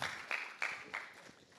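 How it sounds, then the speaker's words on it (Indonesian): A congregation at a Sunday church service in Manado claps in a few quick, scattered bursts, soft and somewhat distant, roughly three sharp swells over a low room murmur. "Tepuk tangan buat Melvin, berikan semangat."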